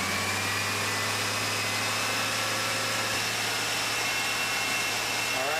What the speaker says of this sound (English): the best way to check it is actually run the engine up and get that compressor running